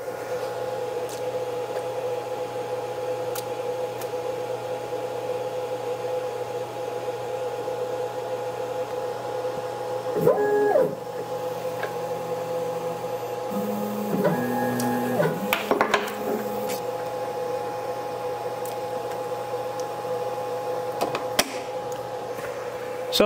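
A CNC machine re-probes to locate the stock origin while making an award plaque: a steady electrical hum runs throughout, broken midway by a few brief motor whirs and tones, with no voices.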